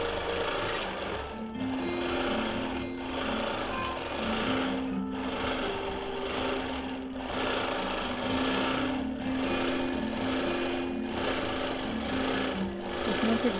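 A longarm quilting machine stitches pieced fabric under the needle in a steady, fast mechanical whir. It runs continuously and close, with a rhythmic pulse and slight tonal shifts as the fabric moves.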